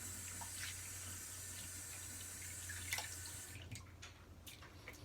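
Tap water running steadily into a sink to rinse out a shaving soap puck, a soft constant rush with faint splashes and drips, heard alone at low level.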